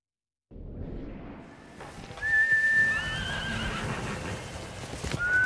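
A horse in the Ghost of Tsushima video game whinnies in a long, shrill, wavering call, with hoof clatter and a soft whistle amid outdoor ambience, and another brief high call comes at the end.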